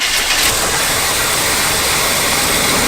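An abandoned camper's engine cranks over while running on brake clean, a loud, harsh, continuous mechanical churn close by with a broad noisy rush and no voices.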